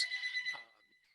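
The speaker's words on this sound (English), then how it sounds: "Sorry for the phone in the background." A telephone rings in the background during an online community call, a thin electronic ringing tone that is moderately faint and fades out within about a second.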